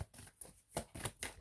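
Tarot cards being shuffled in a few quick riffling bursts, soft and close, with short pauses between, no talking.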